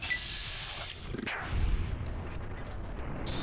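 Heavy gunshots from hostile robots firing at the player in Fallout: New Vegas, a few booming, artillery-like blasts with a loud burst near the end, close and prominent over low game rumble.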